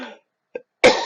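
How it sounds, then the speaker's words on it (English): One sharp, close cough sounds after a short quiet gap and brief bits of a voice, loud and alone. "because I coughed, I just got a tickle."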